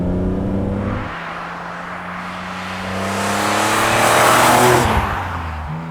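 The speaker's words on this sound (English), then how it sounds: "the real benefit, of course, is that glorious six-cylinder rasp that you get." A BMW Z4 M Coupe engine drones, then revs up into a louder, raspy six-cylinder exhaust note that swells and fades near the end.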